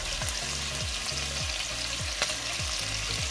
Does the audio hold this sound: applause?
no